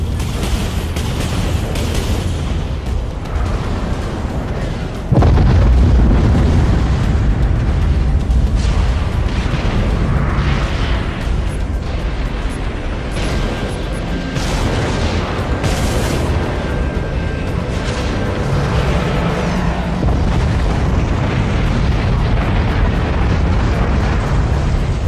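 Missiles fired in the video game Dreadnought burst in heavy booming explosions. One big blast lands early on, followed by a long, loud rumbling wash of further detonations and crackling bursts.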